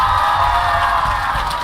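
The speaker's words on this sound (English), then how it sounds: "I want to give one last really big round of applause for all these amazing voice actors to my left here" A convention panel audience of fans cheers and applauds for a lineup of voice actors, a dense, steady roar of crowd noise and whoops filling the room without pause.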